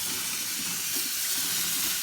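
Hot water runs over a baby bottle being rinsed at a sink, a steady close hiss of flowing water with a bright, even wash throughout and no voices.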